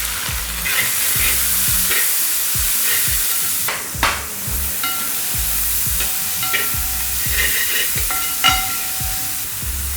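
Crushed shallots and whole spices sizzling loudly in a pan for chicken kondattam, a bright continuous hiss with regular scraping stirs and occasional clinks of the spoon, close up and with no voices.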